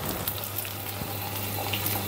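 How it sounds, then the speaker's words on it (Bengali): An egg frying in a pan with chopped coriander leaves gives a steady, soft sizzle with faint crackles, heard close and unbroken under a low background hum. "এই যে ধনে পাতা কুচি দিয়ে ডিমটা ভেজে নিচ্ছি"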